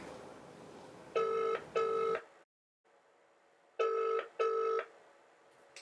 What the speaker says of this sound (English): Let's give him a ring and find out where he is and where he's hiding.